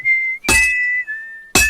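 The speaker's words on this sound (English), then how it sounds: "smashing the hammer. Moving, whistling." A game character in Kingdom Come Deliverance 2 whistles a sustained tune while two loud metallic hammer strikes ring out at intervals, clear and close.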